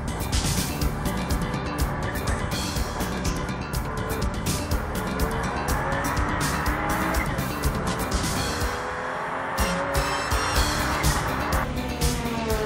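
A Toyota Supra race car laps a circuit with its engine roaring loud and steady and its tires squealing through the corners, the car sounding close and continuous from start to end.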